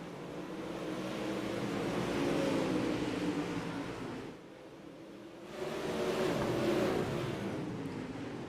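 A pro late model race car roars past at Volusia Speedway Park during a heat race, its engine swelling loud and near, dipping briefly, then a second surge of engine noise sweeps by close.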